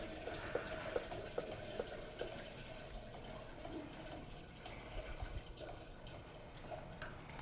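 Water flowing through an electrically operated deluge fire-protection system as its water supply control valve opens fully, a steady faint rushing hiss with occasional small ticks and drips, no speech.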